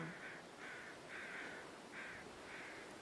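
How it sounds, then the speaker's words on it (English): Crows in the survival game The Long Dark give five spaced caws, faint and distant over a steady wind-like hiss. "Wait, I hear crows now."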